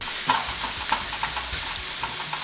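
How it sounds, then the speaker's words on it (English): Chorizo fries in a hot pan with a constant crackling sizzle, broken by light scraping taps from a stirring utensil every half second or so. "we're going to continue to cook our chorizo for 4 minutes"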